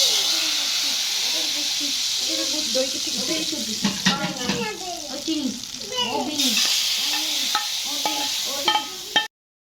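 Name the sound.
tempering sizzling in hot oil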